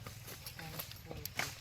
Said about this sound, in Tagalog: Itong kabayong ito.